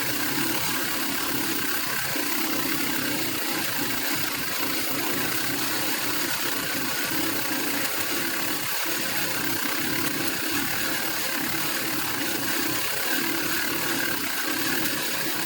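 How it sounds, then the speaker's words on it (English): A sewing machine stitches the front facing of a 1940s-style dress, its motor humming in a steady, continuous whir that runs throughout with no talking. "Now I'm going to sew up the front facing"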